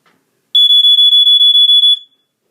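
An Earli-Gard EGD-5B smoke alarm under test emits a loud, piercing high-pitched tone in rapid pulses for about one and a half seconds before cutting off, with quiet before and after.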